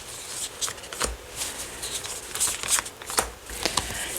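Tarot cards are handled and shuffled, giving a run of soft close-up riffles, slaps and papery flicks in an irregular rhythm, with no talk over them.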